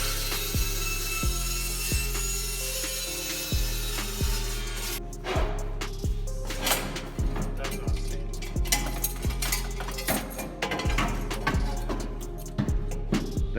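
Metal tubing being cut for a custom twin turbo setup on an LS-swapped Chevelle, a rhythmic rasping saw stroke repeating steadily, with clinks and workshop clatter building in the second half.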